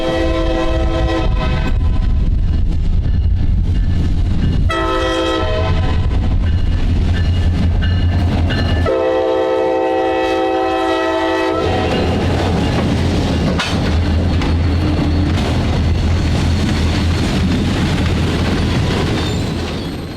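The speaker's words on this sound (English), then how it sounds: "we saw train Q231 coming southbound over the Toledo sub with SD40-3 number 4000 on the point" CSX freight train Q231 heading southbound on the Toledo subdivision, led by rebuilt SD40-3 locomotive number 4000, passes loud and close. Sustained engine roar and repeated chord horn blasts give way to steady rumbling and clatter of the cars rolling by.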